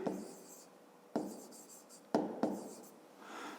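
Pen or pencil writing by hand on paper while working a fifth-grade maths exercise, a soft continuous scratching with a few sharper strokes, close and quiet, with no talk.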